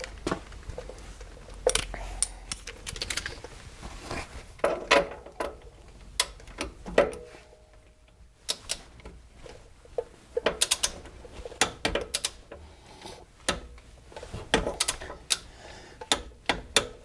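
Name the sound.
ratchet tightening car suspension bolts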